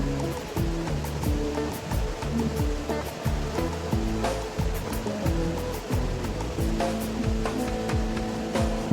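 Heavy typhoon rainwater rushes steadily into a drainage opening in Tagaytay, making a loud, continuous gushing roar close by with no voices.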